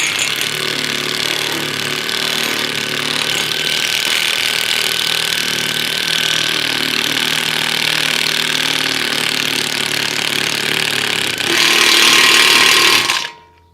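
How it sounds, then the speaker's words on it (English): Impact wrench driving raw bolts through brackets into their holes, a loud continuous buzzing whir that holds steady for most of the run, rises sharply near the end as the bolt seats, then cuts off. "put your raw bolt in place, and then tighten your impact wrench"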